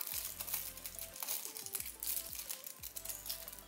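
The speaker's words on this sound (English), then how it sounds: "This is where I just gently pull the foil and fold it over itself." Aluminium foil gently pulled and folded over itself around a plant pot makes quiet, close crinkling and crumpling in short bursts, with faint background hum and no speech.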